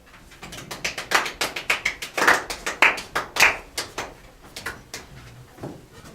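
A talk show audience breaks into applause to welcome a guest, a rapid run of sharp, close clapping bursts that swells and then thins out toward the end.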